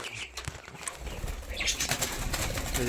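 Budgerigars flutter and flap their wings close by, with soft chirps and rustling against a busy aviary background.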